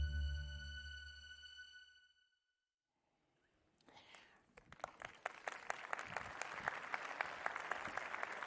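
After a sustained musical tone fades into a short silence, a conference audience at Dell Technologies Forum 2023 in Spain breaks into steady applause that swells and continues to the end.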